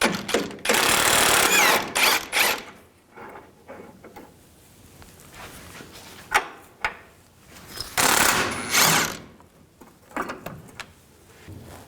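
A 21mm socket ratchet clicks in bursts while removing idler arm bolts on a 1999-2007 Chevy Silverado 2500HD, with rapid close-up ratcheting separated by quieter pauses and metallic handling sounds.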